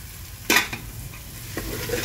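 A spoon stirs cauliflower, green chillies, tomatoes and peas in a pan for a Marathi veg pulao, giving a couple of short scraping strokes over a faint low sizzle, close and quiet.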